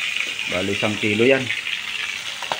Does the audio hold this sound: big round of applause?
no